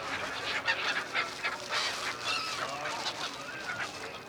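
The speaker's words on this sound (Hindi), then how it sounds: "यहाँ पर आए 7 समुद्र पार पक्षियों से भी मैं आपको मिलवाता हूँ, जिनका नाम है साइबेरियन क्रेन पक्षी।" Siberian cranes calling along the Narmada riverbank at Gwarighat, Jabalpur, a dense overlapping flock of honking, goose-like cries heard at moderate distance against steady outdoor background noise.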